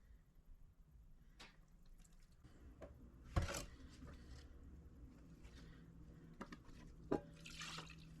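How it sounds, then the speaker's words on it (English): Water sloshes and drips quietly as black sludge from processed BGA chips is panned in a pan, with soft trickles and a few sharper splashes and clinks. "I start by panning off the light black sludge."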